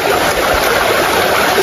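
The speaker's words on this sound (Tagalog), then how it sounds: "yung tunog ng lagaslas ng tubig" Steady rushing of water flowing in a stream, a loud continuous broadband wash with no talking over it.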